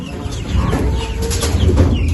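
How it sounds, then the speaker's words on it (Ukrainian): Busy noise of young chickens with soft clucking and chirping calls, steady and close, over a constant background hum. "Дивіться, як наші курчата облюбували."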